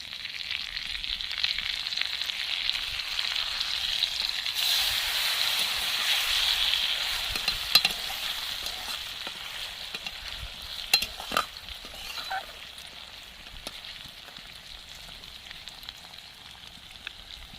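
Eggs frying in a pan of tempered, spiced lentil dal with chilli powder, a steady close sizzle that swells then settles, punctuated by a few sharp clinks and scrapes of a stirring spoon.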